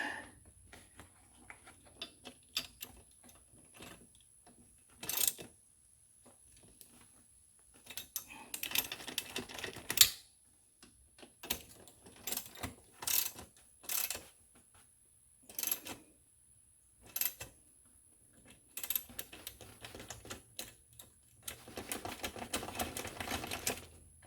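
Bolts on a Trac Seats suspension seat kit for a Z920m mower are tightened in a series of scattered clicking, ratcheting bursts separated by quiet pauses, fairly faint and close.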